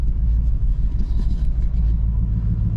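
A 1990 Chevy Suburban engine rumbles low and steady as the truck rolls slowly into a garage, loud and close with no voices.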